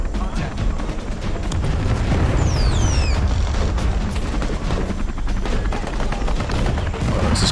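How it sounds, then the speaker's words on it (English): Relentless mortar and gunfire rumble through a Vietnam War battle in the video game Call to Arms Vietnam, as the Battle of Ia Drang Valley rages with dense, continuous booms and rattling shots at steady loudness. "Colonel Moore. Directing his mortars."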